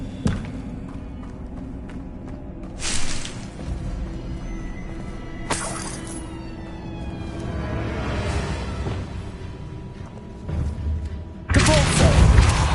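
In the Hogwarts Legacy video game, the Bombarda spell goes off in several deep booming explosions with heavy thuds, sudden bursts of blast noise between them, and a big loud blast at the end.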